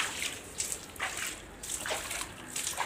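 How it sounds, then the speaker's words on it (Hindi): Water splashing and dipping from a duck on a Pakistani farm pond, with repeated bursts of splashes at irregular intervals at moderate distance over a steady watery background. "नीचे ऊपर डिप हो रही है पानी के अंदर"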